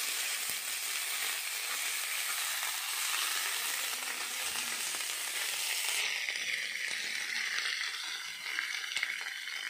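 Oil sizzles steadily on a hot tawa as barari fish fries on a leaf lining, a dense continuous hiss that stays loud and close throughout, easing slightly toward the end with no talking.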